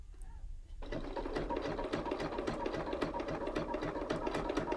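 A sewing machine starts after a brief quiet moment and runs in fast, even zigzag stitches over rope for a coaster, a close rhythmic mechanical chatter that continues to the end.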